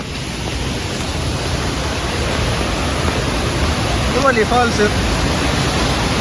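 A steady, dense roar of falling water from a waterfall at Kudremukh, with a brief voice rising over it near the end.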